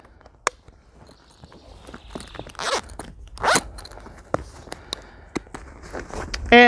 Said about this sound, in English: We're going to zip up the Migrate duffel.